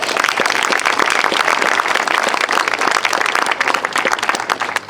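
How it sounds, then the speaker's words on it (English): An audience at an outdoor statue dedication for baseball player Elmer Flick applauds. The dense, steady clapping from many hands is close and fills the whole stretch without pause. "And please give him a particular round of applause."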